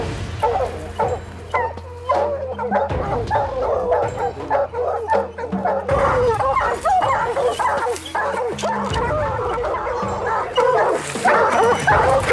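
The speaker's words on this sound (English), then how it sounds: "I think the dogs got that bear bayed or treed" A pack of hunting hounds bays at a treed black bear in North Carolina woods, with loud overlapping barks, yips and whines pouring out continuously and close by.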